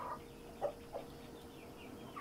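Chickens and roosters on a farm give a few soft, short clucks at moderate distance, alone and fairly quiet.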